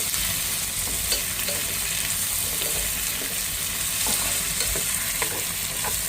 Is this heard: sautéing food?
yes